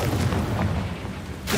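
Confringo fire-blast spell going off in Hogwarts Legacy, a video game: a steady low rumbling boom runs throughout, ending in a sharper, brighter burst.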